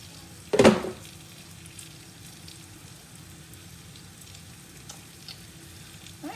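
Sliced green tomatoes fry in a pan, giving a soft, steady sizzle throughout, with one sharp clatter near the start and a few faint ticks later.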